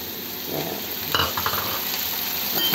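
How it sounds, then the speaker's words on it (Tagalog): Cherry tomatoes frying with onion and garlic in a hot pan give a steady close sizzle, broken by a few stirring scrapes and soft utensil taps. "Pagluto na po yung ating onion garlic, lalagyan po natin yung ating cherry tomato"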